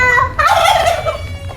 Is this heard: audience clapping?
no